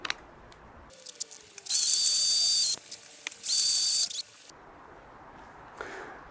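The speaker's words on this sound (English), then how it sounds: "So now I will try one of the larger drill bits that are left-handed" Larger left-handed drill bit boring into metal on an MG TF subframe, two loud high-pitched whining bursts of about a second each with quiet pauses and small clicks around them, close up and without speech.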